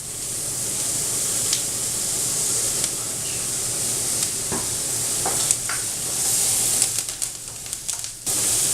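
Parsnips cooking in oil in a pan, a continuous close sizzle and hiss with occasional stirring scrapes, growing louder and more crackly toward the end.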